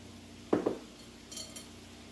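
Bacon being stirred back into burrito filling in a pan, two quick close scrapes and clinks of a utensil against the pan followed by faint lighter clinks, with no talking.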